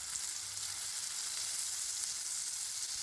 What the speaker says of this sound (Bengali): টমেটোগুলোকে পেঁয়াজের সাথে তেলের মধ্যে কিছুক্ষণ নেড়ে চেড়ে নিব